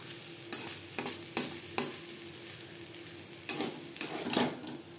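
Curry with slit green chilies is stirred in a pan over a medium gas flame: a spoon gives about eight sharp scrapes and knocks in two clusters over a faint, quiet sizzle, with no voices.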